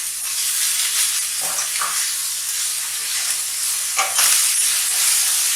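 Carrot, zucchini and onion with a little salt sizzle in a pan, a loud steady hiss of frying with a few bursts of scraping and stirring as the vegetables are mixed.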